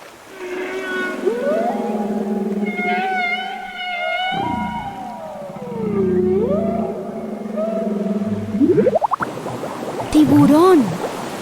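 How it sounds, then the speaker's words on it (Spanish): Whale song heard underwater, long gliding moans and rising whoops with rich overtones, loud and close, swooping up and down over several seconds. "Algunas ballenas cantan canciones bajo el agua para comunicarse con sus amigos."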